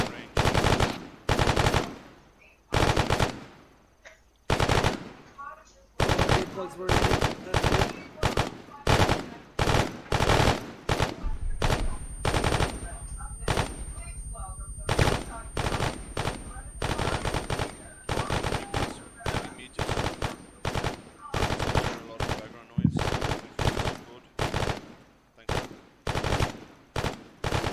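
Rifle fire at a firing range in ARMA 3, with rapid bursts and strings of loud, sharp shots in near-continuous succession and only brief pauses, close and dominant; a voice briefly speaks.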